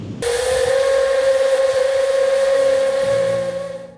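A loud, sustained steam train whistle blows for several seconds at one steady pitch and then fades out, from the train at the end of the world in Ushuaia, Argentina.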